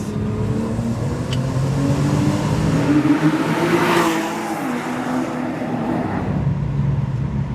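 A Porsche 997.2 911 engine fitted with an aftermarket exhaust gives a loud, close, continuous note that swells and holds through the middle, then settles back to a steady drone, with no talking.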